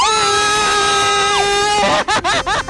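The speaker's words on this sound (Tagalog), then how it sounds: "Bakit ako yung sumigaw?" A loud, sustained high-pitched scream holds for nearly two seconds, then breaks into a run of short, choppy shrieks and yelps, from a rider on a giant swing ride.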